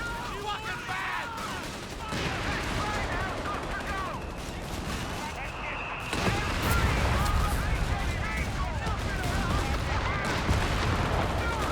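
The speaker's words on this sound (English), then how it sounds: "Enemy fire!" Sustained battlefield gunfire in the World War II strategy game Company of Heroes 3, with dense overlapping shots and booms rolling continuously, growing louder midway, while a voice talks over it.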